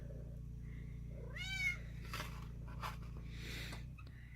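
A cat gives one clear, rising meow followed by a couple of softer, shorter meows, faint and nearby over a steady low hum in a kitchen.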